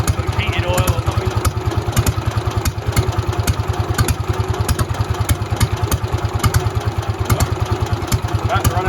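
A JAP Model 55 stationary engine running on petrol instead of paraffin thumps at a steady, rapid idle with a rhythmic clatter, heard up close with faint talk in the background.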